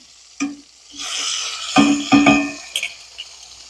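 Browned chicken pieces hiss and sizzle in a hot frying pan as they are flipped, with short bursts of frying and a couple of light utensil clinks against the pan.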